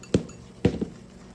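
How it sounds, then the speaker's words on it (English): A spoon clinks twice against a bowl while powdered sugar is stirred into a thin lemon drizzle, two sharp close taps with a faint third, then quiet. "So I'm gonna put a spoonful in and stir that up."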